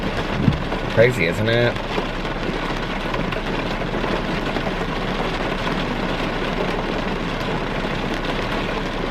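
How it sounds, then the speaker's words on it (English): Steady heavy rain pours outdoors during a storm, a constant broadband wash lasting the whole stretch, with a brief spoken remark near the start. "Do you hear this storm?"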